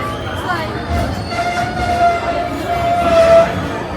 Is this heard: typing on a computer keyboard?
no